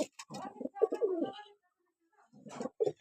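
A tame female pigeon coos near the mic in two soft bursts, the first lasting over a second and the second returning briefly after a short silent gap.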